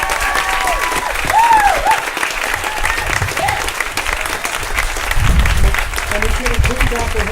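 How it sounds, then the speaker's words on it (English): Sustained applause from a crowd at a medical school Match Day ceremony, steady dense clapping that swells and eases, with a voice speaking over it. "we need to give them another round of applause"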